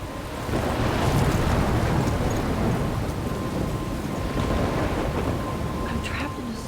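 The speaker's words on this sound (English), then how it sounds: "I'm trapped in a storm?" A thunderstorm rolls in the Life is Strange video game, a loud sustained roar of rain and wind with rumbling thunder swelling in early and staying heavy throughout.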